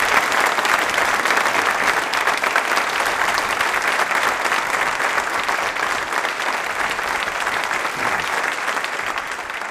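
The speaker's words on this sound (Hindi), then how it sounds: "सम्मान में तालियां जोरों से बजाइए उनके लिए" A quiz show audience at a university claps loudly and steadily for nearly ten seconds in honour of a poet, dense sustained applause with no break.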